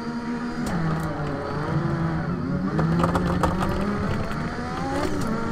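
Lotus 98T Formula 1 turbo car engine in the Assetto Corsa racing game, revving steadily with rising and falling pitch through gear changes, loud and continuous with no talk.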